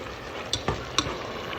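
Beef cubes being stirred as they fry in a pan for beef pares, with a few distinct scraping stirs over a low steady sizzle and no talk.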